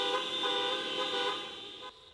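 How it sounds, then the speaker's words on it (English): Car horns blaring at a teachers' protest in Gwinnett County, several tones overlapping in one sustained honk that holds for nearly two seconds before dropping off, fairly loud with traffic noise beneath. "Teachers in Gwinnett County blaring their car horns"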